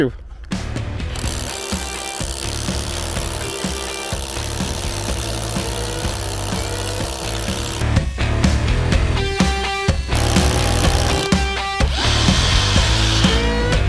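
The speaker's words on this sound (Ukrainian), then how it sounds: "Давайте попробуємо на ньому, що перфоратор може" A cordless Revolt RH 2030 HD rotary hammer drills reinforced concrete with a 12 mm bit, loudly and steadily, a harsh rattling hammer with brief pauses and restarts toward the end.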